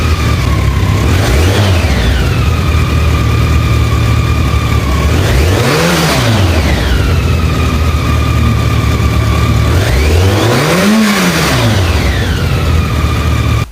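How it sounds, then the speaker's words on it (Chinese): A BMW K1 motorcycle engine revs loudly in three rising-and-falling surges, the pitch climbing and dropping each time over a steady throbbing idle, close up with no talk. "来自宝马 K1 摩托。"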